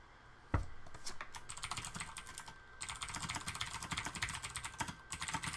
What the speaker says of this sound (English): Don't mind the typing, guys.